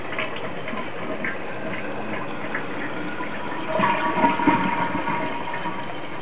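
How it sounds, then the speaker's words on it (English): A toilet flushes and its tank refills while it is checked for water hammer, giving a steady close rush of gushing water that swells briefly partway through before settling back. No one speaks. "Let's see if we got a water hammer."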